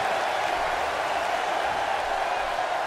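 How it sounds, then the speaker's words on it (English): A WWE 2K18 wrestling crowd in a New Orleans, Louisiana arena roars as a steady, dense wash of cheering and applause, loud and continuous throughout. "As the crowd's coming alive here in Louisiana, in New Orleans"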